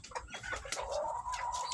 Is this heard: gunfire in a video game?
no